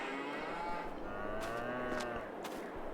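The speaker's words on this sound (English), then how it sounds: "And there are the cows." Farm cows moo in Farming Simulator 22, several long, low, overlapping calls from the herd on a spring map, heard over steady outdoor farm ambience with a few brief clicks and knocks, no voices.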